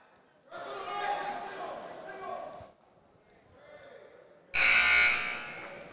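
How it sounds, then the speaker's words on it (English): A loud electronic buzzer blares near the end of a high school boys' wrestling match, following a stretch of crowd noise and commentary over a busy gym. "Buzzer"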